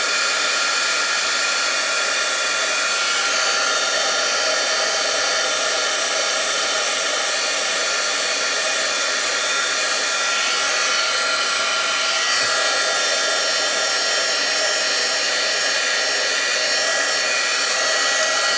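A heat gun melts embossing powder along the edges of a craft piece, giving a loud, close, steady rushing whoosh of hot air that runs without pause from start to finish.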